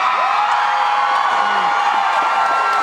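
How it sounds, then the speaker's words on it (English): An audience at a concert cheers and applauds, forming a loud, steady wash of crowd noise with whoops rising from it throughout. "You must applaud and cheer as if God himself, or maybe Nathan Fillion,"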